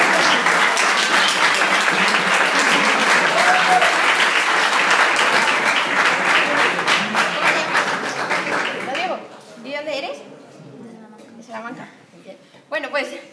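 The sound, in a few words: audience applause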